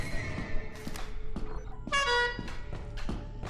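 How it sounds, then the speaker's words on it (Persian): A car horn gives one short honk near the middle, close by, among scattered clicks and handling knocks. "بوق بزن."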